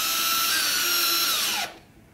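A power drill drives an M3.5 screw into a rocket airframe coupler, a steady loud whine held for about a second and a half that slows and winds down before cutting off to quiet.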